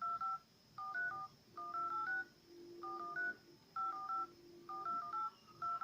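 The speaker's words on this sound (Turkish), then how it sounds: "Okey arıyorum. Numarayı yazıyorum." Keypad tones sound as a phone number is dialed, a series of short electronic beeps in irregular clusters, quiet and close, with no talking.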